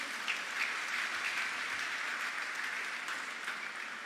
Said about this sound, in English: Let's give them, please, a round of applause.